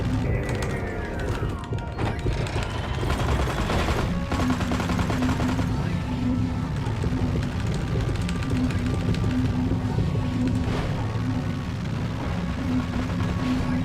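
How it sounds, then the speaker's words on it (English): Rockets fired in the video game Destroy All Humans! come as repeated bursts of weapon fire, mixed with clanking mechanical game noise and a constant busy din throughout. "He's gonna keep firing rockets at me now"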